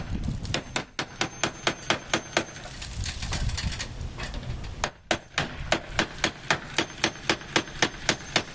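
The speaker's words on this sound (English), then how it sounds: "just take your hammer and hit it" A hammer drives a nail through a rain gutter in a run of sharp, close metallic strikes, steady and regular at first, then a short pause and a quicker, denser series of blows.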